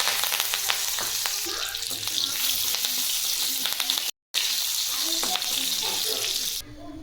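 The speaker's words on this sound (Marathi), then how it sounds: "आता आपण कढीपत्ता तळून घेऊ।" Curry leaves fry in hot oil for a quick puffed-rice chivda, giving a loud, steady sizzle and crackle that runs almost unbroken, with one brief cut and a slight drop near the end.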